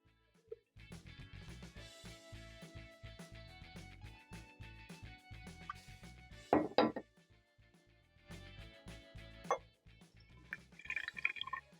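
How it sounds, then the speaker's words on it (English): Home-brewed kombucha being filtered and poured into a jug, with steady trickling and dripping of liquid, a few louder splashy pours and glassy knocks midway, all fairly close with no talking. "I'm going to filter out some more kombucha and transfer into the jug."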